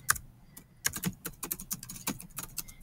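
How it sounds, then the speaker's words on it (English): Typing on a computer keyboard, with rapid irregular key clicks and a few louder taps, close and clear with no talk. "I'm going to start typing."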